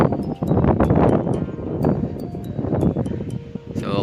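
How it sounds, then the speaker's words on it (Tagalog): A strong wind buffets the microphone outdoors on a sunny morning in Agdangan, Quezon, giving a loud, continuous rumble with gusty surges and faint scattered clicks. "Medyo malakas nga lang talaga ang hangin."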